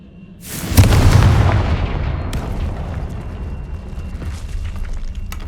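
A Confringo blasting spell explodes in the Hogwarts Legacy video game: a sudden heavy boom rises into a deep rumbling roar, then fades into a long crackling, debris-filled tail.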